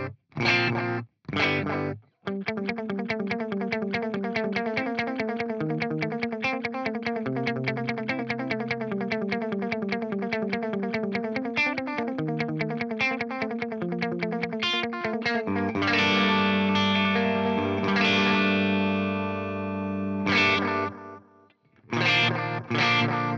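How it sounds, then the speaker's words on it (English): An electric guitar played through a BOSS DM-2 analog delay pedal, a fast repeated distorted riff with dark, filtered echoes trailing each note, followed by sustained ringing chords and short stabs at the end. "This is going to give you a good idea of what the actual quality of the delay sound is like."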